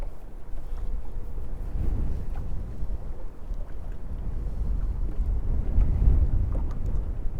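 Strong wind buffets the microphone on a fishing boat out on the water for white bass, a steady low rumbling roar with gusty surges, loud and continuous with no voices.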